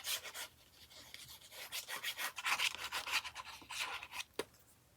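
A glued paper flap on a handmade mini journal is pressed down and rubbed by hand, giving a series of soft, close scratchy rubbing strokes in uneven bursts, with no talk.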